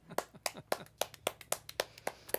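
An audience applauds for Steve at an acoustic live-stream performance, the clapping coming as a quick, fairly regular series of sharp, fairly faint hand claps.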